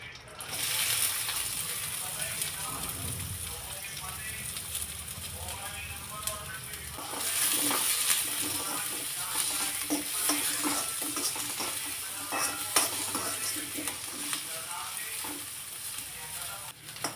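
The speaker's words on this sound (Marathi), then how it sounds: "तेल तापलं की लगेचच त्यामध्ये चिरलेला कांदा घालायचा" Chopped onion hitting hot oil in a kadhai, a steady close sizzle with scraping stirring strokes, frying continuing as a voice talks over it.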